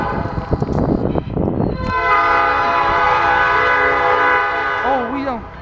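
A Norfolk Southern northbound mixed freight train in Marion, Ohio sounds a long, loud, sustained horn over rumbling railcars, with a brief shifting tail at the end; voices are heard briefly before the horn starts.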